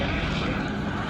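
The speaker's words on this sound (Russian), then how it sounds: "Очень часто летают вертолеты." A helicopter flying over Rio de Janeiro, heard as a steady, loud broadband rotor and engine drone that fills the whole brief moment without a break.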